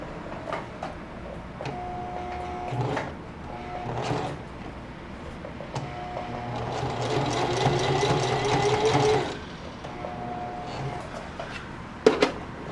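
Sewing machine stitching a bar tack on a jeans back pocket, with short bursts of rapid mechanical whirring and ticking separated by pauses, then a longer continuous run, close and clear, ending with a couple of sharp clicks.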